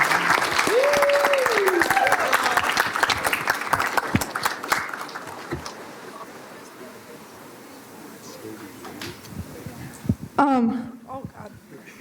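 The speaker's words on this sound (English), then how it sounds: "let us give a really nice round of applause for all of our students" A room full of people applauds students at a school panel event, clapping that is strong at first and then fades to scattered claps, with voices joining near the end.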